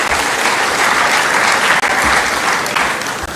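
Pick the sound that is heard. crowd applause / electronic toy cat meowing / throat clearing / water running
crowd applause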